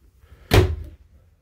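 The door of a Bullet 291RLS travel trailer shuts with a single sharp thud, a short burst that fades quickly into quiet.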